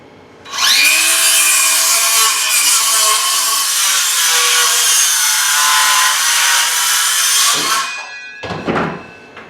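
A 6.5-inch, half-inch carbide-tipped saw blade cuts through wood, a loud continuous whine and rasp lasting about seven seconds, then the motor winds down and brief clattering follows.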